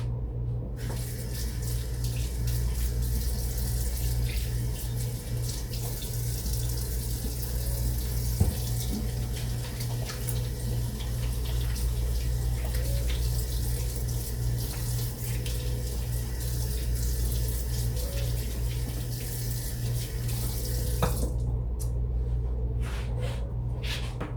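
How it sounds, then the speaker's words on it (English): A kitchen tap runs steadily while hands are washed under it, giving a continuous close rush of water for about twenty seconds before it is turned off. "I'm gonna wash my hands."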